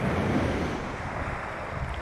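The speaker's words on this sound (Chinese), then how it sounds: "海浪白飘飘，翻翻。" Sea waves washing onto a beach during a shell-digging outing, a continuous rolling surf roar with wind buffeting the microphone, fairly loud and close, no voices.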